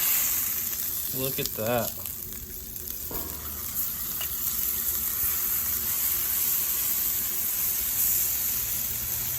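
A T-bone steak sizzles steadily on a Blackstone griddle just after being flipped, a continuous frying hiss running throughout, with a brief spoken comment and a few scraping clinks early on.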